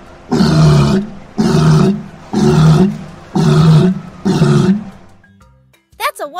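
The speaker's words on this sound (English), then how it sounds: "That's a walrus." A walrus gives five loud, evenly spaced roaring bellows, each about half a second to a second long with short gaps between, followed by a brief higher-pitched squeal at the end.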